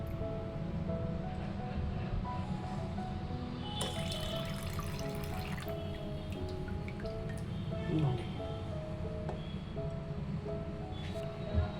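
Semolina rinsed in a bowl of water by hand, with a steady, continuous swishing and sloshing that stays close and fairly even throughout and has no talk over it.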